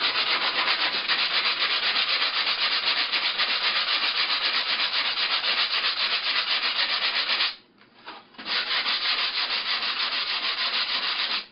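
Sandpaper rubs steadily back and forth along the hinge line of a small hand-built glider, a close, continuous scratchy hiss that stops briefly for about a second and then resumes without talk.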